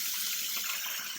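Cold water runs steadily from a kitchen faucet into a sink that has a garbage disposal, a continuous broadband hiss and splash at close range, with no voices.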